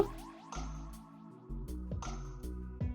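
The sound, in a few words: water being added to dosa batter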